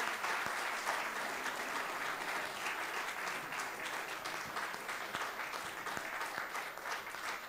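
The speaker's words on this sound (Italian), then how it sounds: "per lei l'applauso della Biblioteca Simpliciana di Olbia" Steady, sustained applause from an audience at a literary award ceremony in Olbia, dense and even throughout, with no talking over it.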